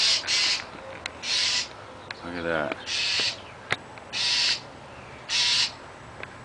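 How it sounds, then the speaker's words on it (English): A bird calls outdoors in repeated harsh, raspy bursts at a steady rhythm, fairly close, while a person speaks briefly over it. "It's a bird."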